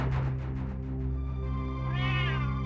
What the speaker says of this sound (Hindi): अभी काली बिल्ली ने रास्ता काटा है।